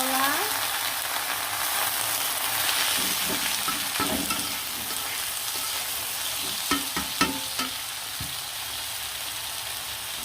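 Round slices of bitter gourd fry in a pan with browned garlic and onion, giving a steady, bright sizzle throughout with occasional clinks and scrapes of stirring.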